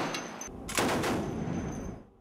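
A sharp warning volley from a heavy machine gun aboard the nuclear battlecruiser Pyotr Velikiy erupts, sustaining loud, dense rattling for over a second before fading into an echoing tail.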